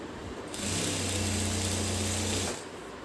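A sewing machine runs a single steady burst of stitching on plain lehenga skirt cloth, a close, even motor whir lasting about two seconds between quieter pauses.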